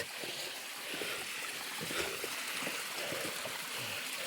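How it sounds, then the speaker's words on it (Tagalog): Small waterfall pouring steadily outdoors, a continuous broadband rush of water that stays even and moderately close throughout, with no voices. "May waterfalls pa. Cute na waterfalls."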